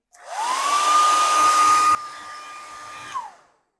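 A hair dryer blows on wet paint over masking tape, starting up with a rising whine, running loud and steady close by, dropping slightly in level midway, then switching off and winding down.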